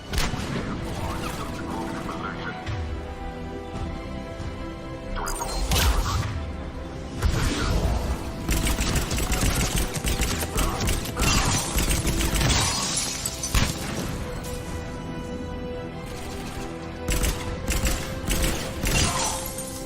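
Gunfire in a Mass Effect 3 firefight at a checkpoint, with dense crackling and shattering bursts and mechanical clatter that run continuously over a loud game-music bed, stronger in several surges.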